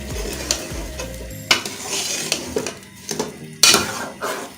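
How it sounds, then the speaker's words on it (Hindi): Potatoes and green chilies go into frying minced-meat keema, with a spoon scraping and clanking against the pot over a steady sizzle in repeated stirring strokes. "अब हम आलू भी डाल रहे हैं साथ ही"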